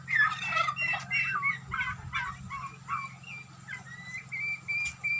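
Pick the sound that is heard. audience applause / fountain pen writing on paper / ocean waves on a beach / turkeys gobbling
turkeys gobbling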